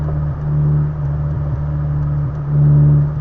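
A car engine fitted with a new exhaust idles and revs with a steady low drone, swelling louder near the end, with a slight hollow, airlock-like roughness rather than any backfire pop.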